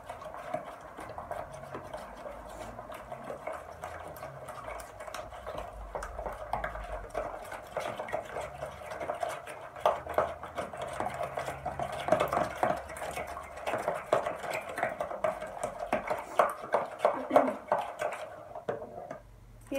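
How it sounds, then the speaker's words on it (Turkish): An egg being whisked into cookie dough in a bowl for lemon caterpillar cookies, with a quick run of light clicking and scraping strokes that grows busier and louder toward the end. "Bunu da güzel çırpacağım."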